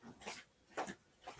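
A dog whimpers and yips faintly in a home craft and sewing room, with three short, soft bursts spread across a brief stretch of quiet.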